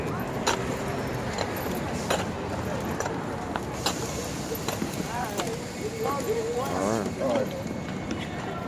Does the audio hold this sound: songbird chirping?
no